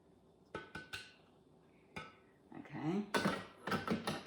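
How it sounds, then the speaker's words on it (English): A spatula scraping down the sides of a Thermomix bowl holding chopped onion and garlic, a few sharp taps followed by quiet, close scrapes and clatter. "Now we're going to scrape the sides down."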